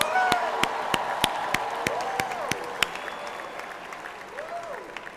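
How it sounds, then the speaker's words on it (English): Audience applause at a university spring commencement ceremony, a broad sustained wash of many hands clapping across a large venue, with a few sharper claps standing out and faint voices mixed in. "Let's give it another round of applause."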